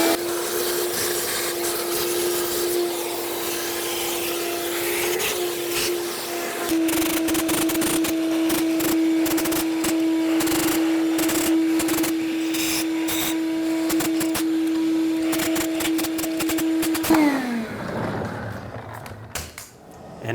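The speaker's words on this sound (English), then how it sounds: "I'm going to use a vacuum and stick the nozzle down here the best I can and get as much of the debris out" Steady loud whine of a vacuum cleaner sucking debris from around the fuel rail of a 2003–2008 Toyota Corolla engine. It runs continuously, with rattling as the nozzle probes, then winds down near the end.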